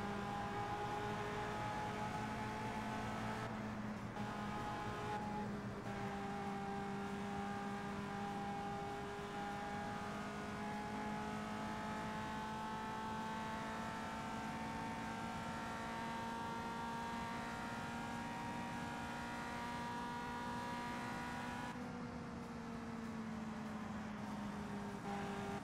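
Steady race car engine whine from the Indianapolis 500 Evolution video game recreating the 1965 Indianapolis 500, several engines droning together in a continuous, fairly quiet tone that dips slightly around shifts, with no talk.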